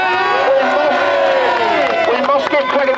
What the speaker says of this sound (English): Just give Nick Harley a big cheer, please.